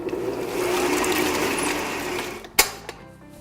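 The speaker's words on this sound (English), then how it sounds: "So now you mix the vanilla and the eggs to the butter and" Electric mixer whirs steadily as vanilla and eggs are beaten into creamed butter and sugar for wedding cake batter, a close continuous drone that stops, followed by a couple of sharp clunks.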